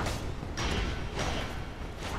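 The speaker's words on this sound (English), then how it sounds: "That's the sound of a dark wraith." Dark wraith enemy in the video game Dark Souls, a low mechanical creaking and booming drone that rises and falls in a few swells over steady rumble.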